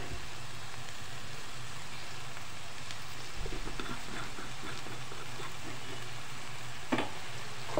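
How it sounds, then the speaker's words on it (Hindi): Macaroni frying in a pan with black pepper, cumin and spices, a dense continuous sizzle with occasional stirring clatters, no voices. "अब इसको खूब अच्छे से हम फ्राई कर लेंगे मसाले डाल के"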